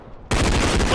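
Loud, dense automatic gunfire bursts in abruptly after a brief quiet moment, a rapid fusillade in a realistic online shooter video game, close and continuous to the end.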